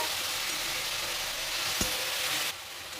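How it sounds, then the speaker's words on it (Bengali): Onion, ginger and garlic frying for egg soup give off a dense, continuous sizzle that fills the clip, with one brief knock partway through before the hiss drops lower near the end. "খুব ভালোভাবে পেঁয়াজ আদা রসুনটাকে ভাজতে হবে যতক্ষণ না এর থেকে কাঁচা গন্ধটা চলে যাচ্ছে"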